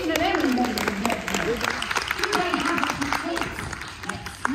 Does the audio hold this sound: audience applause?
yes